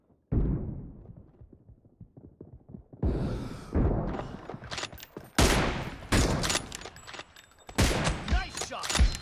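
Video game gunfire crackles in sharp bursts, scattered shots at first, then dense rapid volleys and fusillades that grow louder and closer, with thuds between.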